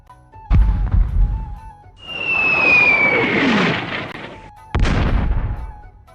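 Cannon fire effect in a Warmaster tabletop battle between Kingdoms of Ind and Dogs of War: two loud, sharp booms several seconds apart, with a whistling rush of noise and a falling squeal between them.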